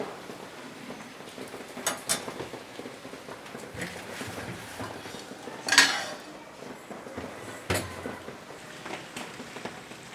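Metal clatter of a lid being set on a cooking pot of potato and banana flower curry with prawns, a few scattered clanks and one sharp ring mid-way over quiet kitchen background.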